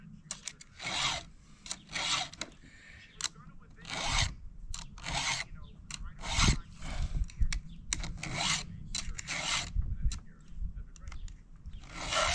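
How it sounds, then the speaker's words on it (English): Chainsaw teeth are sharpened with a hand file, a series of close, rhythmic rasping strokes about once a second, with soft rubbing and handling noises between strokes. "So now I do the filing of the other side of our chainsaw"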